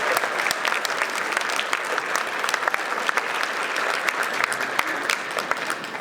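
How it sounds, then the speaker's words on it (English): Luncheon audience giving sustained applause at a Men of Color event, a dense, steady clatter of many hands filling the room, fairly loud with occasional sharper claps and a faint crowd murmur underneath. "Let's give them each another round of applause."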